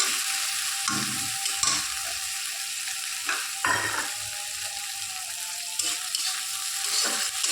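A pan of garlic-spiced curry base for shrimp and tomato curry fries with a continuous close sizzle, broken by several short spoon-scraping stirs spread across the stretch, with no voices.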